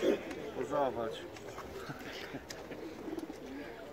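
Pigeons coo at an outdoor market in Łomża, soft repeated throaty calls mostly early on, with people talking throughout amid general market bustle.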